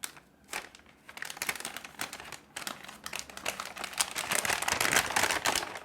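Nice-quality paper bag packaging from a stationery haul is opened with close, steady crinkling and rustling of paper that grows busier and louder over several seconds, with no voices.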